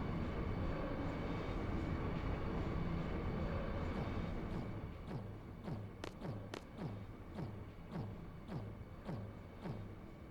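A train passing with rhythmic wheel thumps over rail joints, preceded by a steady low rumble that gives way to a regular clack-clack beat, moderately loud and close, with no voices.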